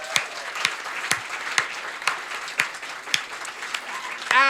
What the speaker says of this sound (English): I want to give a big round of applause to Dre and Damian